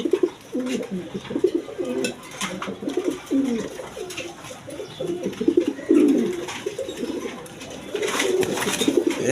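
A male pigeon coos close by in a loft of large breeding pigeons offered for sale, repeated low throaty coos rolling on in steady bursts over faint background rustle.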